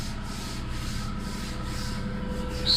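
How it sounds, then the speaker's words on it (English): Primer on a VW Beetle roof is sanded by hand in rapid, steady back-and-forth strokes, a close, even rhythmic rubbing scratch with no talking. "You can't keep sanding it."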